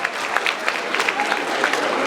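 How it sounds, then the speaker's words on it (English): An audience applauds at a gala dinner, a brief steady patter of clapping hands from a crowded room. "give them a round of applause."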